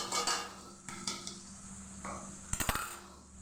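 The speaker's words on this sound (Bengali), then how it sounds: "মশলাটা বেশ ভালো করে কষিয়ে নিই।" A spatula stirs and scrapes a spice paste with ginger-garlic and yogurt in a pan, with metallic clinks and knocks over a soft sizzle.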